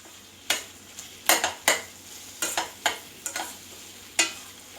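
A spoon stirs and scrapes through a thick tomato gravy mixture sautéing in a pan, with about ten sharp, separate scraping strokes at an uneven pace over a faint, low sizzle, close and fairly quiet.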